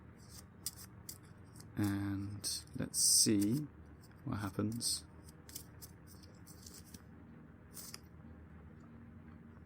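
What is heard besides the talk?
shuffling a deck of initiative cards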